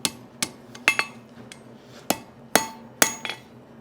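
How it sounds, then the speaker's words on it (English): Hammer blows on a hot forge-welded steel chain link held on the horn of an anvil, about eight sharp ringing metallic strikes at an uneven pace, close and clear with no talking. "bring it to the horn of the anvil, knock it down"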